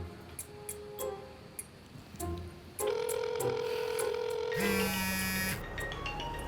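A telephone call being placed in Quezon City: soft clicks and short key tones, then a steady tone and a brief lower ringing tone, fairly quiet, with no talk.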